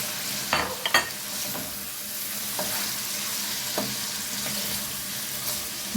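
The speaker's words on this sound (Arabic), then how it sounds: "اروح نازله بالبصله اهو، بصله متخرطه حلوه كده، افضل اشوح برضه" Lamb meat and freshly chopped onions sauté in a hot pan with a steady, close sizzle, broken by a few sharp stirring clatters near the start and softer scrapes later, with no talking.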